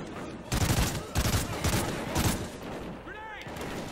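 Rapid gunfire from the Call of Duty: Ghosts level Atlas Falls, played on Veteran, comes in several loud close bursts with short gaps between them, mixed with game effects and talk.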